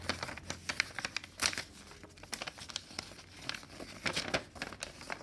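Paper being folded by hand for a pecking bird craft, giving close, crisp crinkles and rustles in irregular bursts with short pauses between folds.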